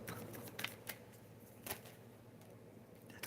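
Tarot cards being shuffled by hand, close by and quiet, with crisp irregular riffles and flicks scattered through a few seconds and no voice over them.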